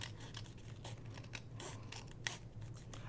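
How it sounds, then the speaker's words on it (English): Several quick scissor snips cut through paper at close range, a light crisp crunching over a steady low background hum. "all I'm going to do is trim off the little pieces that are hanging over"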